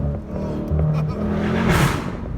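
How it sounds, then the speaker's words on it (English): A Dodge Scat Pack's engine rises in a throaty rev as the paddle shifters drop a gear, swelling into a loud burst near the end, heard from inside the car. "Hell yeah, downshift with the paddle shifters."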